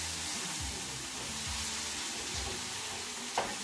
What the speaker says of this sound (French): je rajoute les poivrons